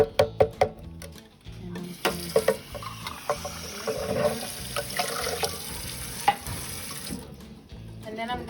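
Water pours and splashes into tomato sauce in a pan, with a running, gurgling flow, a few clinks and knocks of utensils near the start, and then quieter sloshing toward the end.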